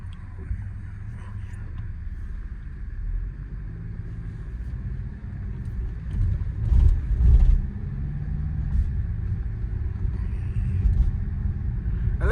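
A BMW X4 SUV on the move, steady low engine rumble and road noise from inside the cabin, with a brief swell mid-way as the engine works through a smooth gear change, no voices.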